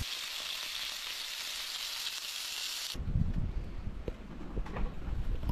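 Cut-up turkey sausage frying, a steady bright sizzle that cuts off halfway, followed by outdoor wind rumble and faint handling noise.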